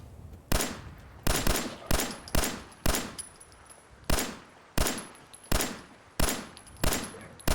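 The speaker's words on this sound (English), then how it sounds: "I hear gunfire." Automatic gunfire from Fallout 4, heard as repeated loud, sharp bursts roughly every two-thirds of a second, each with a quick decay, with no talk over it.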